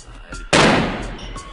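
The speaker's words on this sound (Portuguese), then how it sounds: "tiros." One loud, close gunshot cracks out sharply and leaves a short, decaying echo after a brief quiet lead-in.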